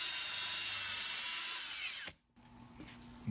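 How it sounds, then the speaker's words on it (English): A small rotary polishing machine works over vinyl wrap with a steady, close whirring hum for about two seconds, then spins down and stops, leaving a brief near-silence before faint handling noises. "So I'm gonna do a little bit more work with this little rotary polishing setup"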